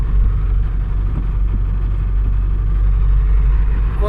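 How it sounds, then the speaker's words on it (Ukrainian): ZIL truck fitted with an MTZ tractor diesel engine running at a steady idle, a loud, close, low rumbling drone with even chugging throughout. "Сьогодні я на такому зілочку, зілок дізельок мтзовський моторчик стоїть."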